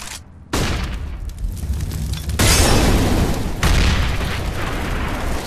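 Loud booming grenade and flashbang blasts in the video game Counter-Strike: Global Offensive, a sudden heavy burst followed by sustained rumbling noise and a second blast, close and dense.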